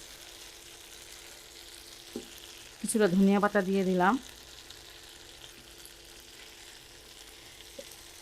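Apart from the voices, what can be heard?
egg snack mixture frying in a pan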